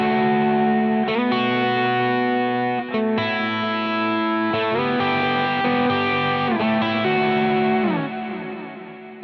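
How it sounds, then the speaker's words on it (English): Electric guitar played through delay and reverb effects, sustained chords and notes ringing into echoing repeats and a roomy wash, loud and continuous with no talking. "Now that can sound even better when I add in reverb."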